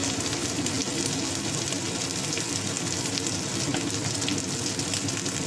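Ground ginger, garlic, onion and red and green chilli paste with salt sizzles steadily in hot oil with bay leaf, for a katla fish curry with potato and kankrol; a dense, even hiss with no voices.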